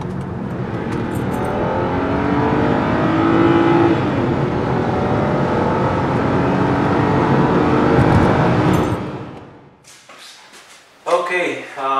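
A BMW 328i on a test drive after a Vanos solenoid fault repair accelerates hard, its engine note climbing steadily in pitch for about eight seconds before easing off, heard from inside the car with brief talk near the end.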